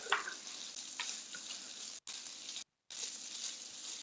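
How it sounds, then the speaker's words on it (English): Onions frying in oil and rendered sausage fat in a pan for crawfish jambalaya fried rice: a steady, faint hiss and crackle with a few brief gaps of silence. "we're going to add a little more oil and cook our half a cup of your onions"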